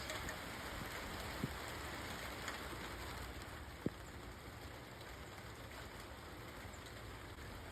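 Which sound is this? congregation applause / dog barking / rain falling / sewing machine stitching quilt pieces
rain falling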